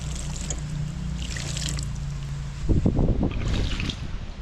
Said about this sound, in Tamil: ஸோ நம்ம கொஞ்சம் தண்ணி ஊற்றிடலாம்.